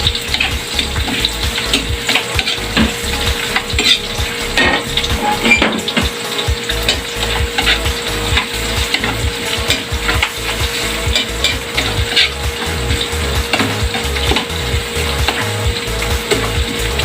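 Onions sautéing in a pan for adobong puso ng saging, a loud, dense, constant hiss and sizzle with no talk over it.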